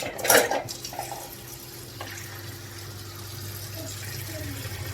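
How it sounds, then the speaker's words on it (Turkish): Hot water poured from a tap into an old cooking pot, opening with a short splashy burst, then a steady low filling rush with faint clinks. "sıcak su koyuyorum"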